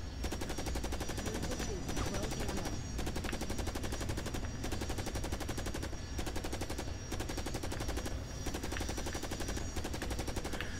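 Rapid automatic gunfire from the Xbox 360 game Carrier Command: Gaea Mission, dense machine-gun bursts running almost continuously with a few brief pauses, steady and fairly loud.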